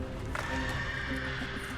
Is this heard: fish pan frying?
no